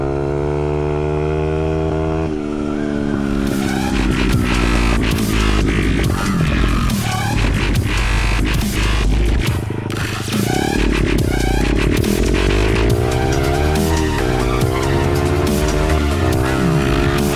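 Honda CRF100 dirt bike engine held against the rev limiter in fifth gear, a loud, close, buzzing whine that stutters and surges, dipping briefly and climbing back again and again.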